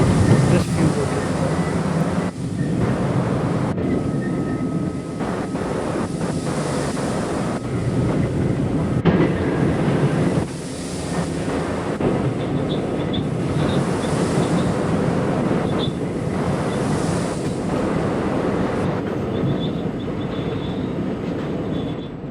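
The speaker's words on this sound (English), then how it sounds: "going up a very sloped hill. That's why you hear all that buckling" An R40 Slant subway train on the C line climbing a steep grade near Chauncey Street, a loud continuous roar of wheels and car bodies with repeated clanks and buckling thuds, plus wind buffeting the microphone.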